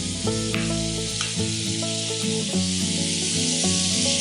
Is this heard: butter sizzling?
yes